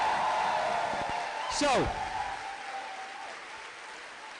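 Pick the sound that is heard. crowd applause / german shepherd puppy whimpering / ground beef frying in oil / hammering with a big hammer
crowd applause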